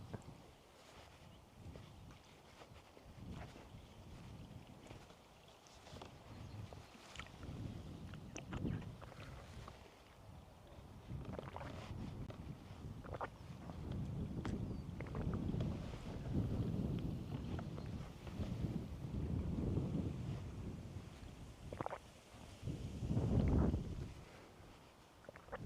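Outdoor breeze on a summer bike tour near Pyhäjoki, Finland, heard as a continuous low rush and buffeting against the microphone that swells and fades throughout, with no voices.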